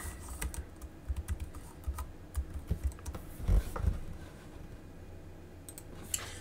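Fingers tap on a computer keyboard, quiet clicking keystrokes in uneven bursts with short pauses, heard alone and fairly close.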